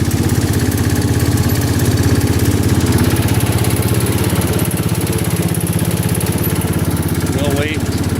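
A John Deere 110 garden tractor engine idles loudly and close, cold-starting, a steady throbbing chug that runs without pause, with a voice speaking briefly over it.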